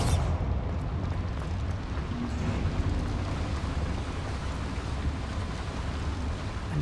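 Bombarda spell explosion in the video game Hogwarts Legacy, heard as a loud, dense, sustained rumbling blast with crackling debris that fills the whole stretch without a break, and no talk.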